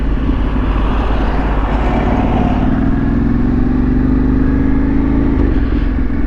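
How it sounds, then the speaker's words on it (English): A heavy farm tractor engine runs loud and close on a rural road, a steady low diesel drone with a slight rise in pitch as it passes, with no voices. "These tractors, they are absolute beast."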